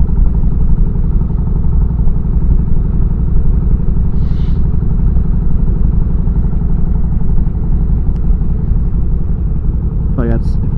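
Motorcycle engine running steadily while riding on a road, a constant close drone with some clatter throughout, a brief mechanical squeal near the end as it slows to pull over.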